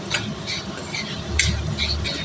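A spoon scrapes and clinks steadily in a pan while turmeric is mixed into a lemon rice mixture, producing soft, continuous stirring sounds close by.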